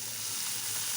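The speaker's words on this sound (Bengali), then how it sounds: "একটু হালকা সতে করে নেব।" Paneer cubes sizzling as they are lightly sautéed in a hot pan, a steady close crackling fry throughout with no pauses.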